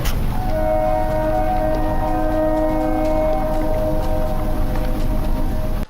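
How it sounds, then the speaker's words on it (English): A train passes at night, a steady low rumble with sustained horn-like tonal notes held through most of the stretch, continuous and moderately loud, then cutting off abruptly at the end. "I hear a train throughout the video."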